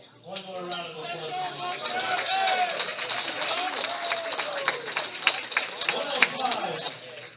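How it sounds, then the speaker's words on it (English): An audience applauds at a youth powerlifting nationals medal ceremony: a steady patter of many clapping hands runs the whole time, mid-distance, while someone speaks over it. "One more round of applause."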